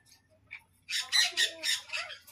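A farm bird squawks in a quick run of five or six loud, harsh calls, close by, after a brief quiet moment with a faint chirp.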